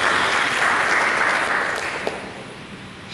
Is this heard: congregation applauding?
yes